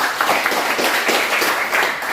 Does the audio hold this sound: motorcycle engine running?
no